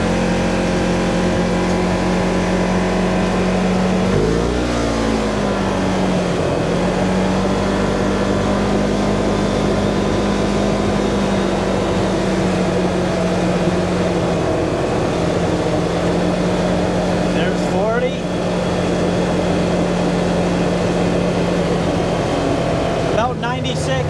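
A Yamaha RMAX UTV fitted with KILMAT sound deadener cruises at 40 miles per hour, its engine holding a steady loud drone with a strong hum, a short shift or rev near the start and brief rushes of wind.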